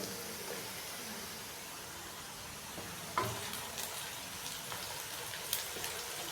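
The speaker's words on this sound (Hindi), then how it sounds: "सब्ज़ मिर्चों को भी हल्का सा फ्राई कर लेंगे जस्ट 30 सेकंड के लिए।" Green chillies slit lengthwise sizzle steadily in hot oil with browned onions for pepper chicken, a continuous close frying hiss broken by a few sharp clatters of stirring.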